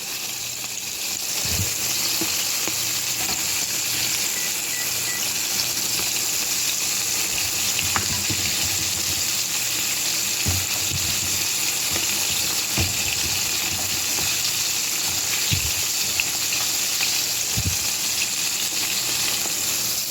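Chicken wings fry in hot oil at home, a steady, even hiss of sizzling with faint occasional pops and clinks, no voices.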